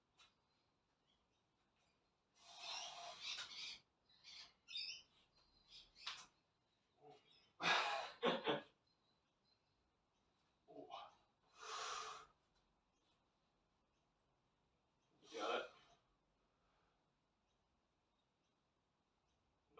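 Heavy, forceful breaths during a weightlifting effort come in separate bursts, some long and hissing, some sharp exhales, between quiet pauses.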